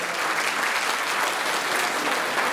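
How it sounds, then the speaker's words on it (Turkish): A theatre audience claps to welcome stage actor Hakkı Ergök onto the stage, producing a steady, dense burst of applause throughout, with no talk over it. "tiyatrosu sanatçısı Sayın Hakkı Ergök Beyefendi'yi alkışlarımıza buraya alalım"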